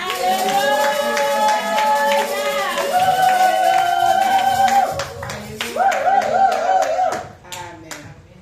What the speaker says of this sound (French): Nous allons applaudir notre roi des rois.